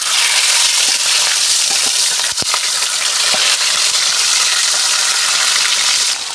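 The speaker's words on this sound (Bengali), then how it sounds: "এবার মাছগুলো আমি ভেজে নিই" Bata fish fry in hot refined oil in a kadai with a loud, continuous close-up sizzle and crackle, plus a few brief stirring knocks partway through.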